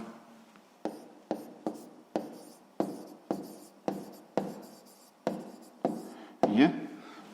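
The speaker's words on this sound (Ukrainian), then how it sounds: "Записуємо правильно." Pen writing on paper while working a 6th-grade maths exercise, about a dozen short scratchy strokes in a steady rhythm, close and quiet, ending in a slightly longer scribble.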